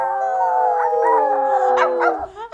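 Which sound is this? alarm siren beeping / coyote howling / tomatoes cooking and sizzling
coyote howling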